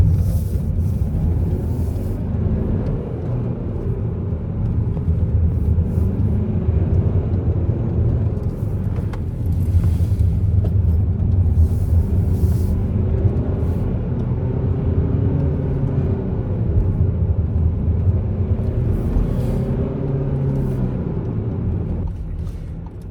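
Cabin drone of a front-wheel-drive Audi driven along an Alpine road: a continuous low engine and road rumble with shifting pitch as the car accelerates and lifts, steady and close throughout.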